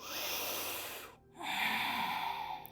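A deep breath during a vinyasa yoga flow, heard as a long, close, airy inhale that stops briefly and then comes back as a second full breath.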